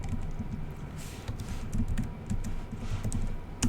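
Rapid typing on a computer keyboard, with a busy patter of close keystrokes running continuously and no voice over it.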